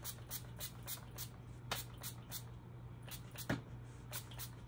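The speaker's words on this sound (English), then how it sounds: "I'm gonna spray this on here real quick" Soft, close hissing bursts of hair styling spray on a wig's curls repeat at an uneven pace against a faint background hum.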